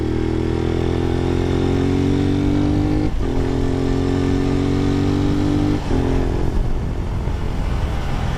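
A carbureted Lifan motorcycle engine runs steadily and loudly up close, its droning tone holding pitch with two brief dips as the throttle shifts, no voices over it.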